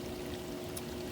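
Steady rushing water churns from the jets of an AquaRest DayDream 4500 hot tub spa, a continuous close bubbling wash with a faint pump hum beneath.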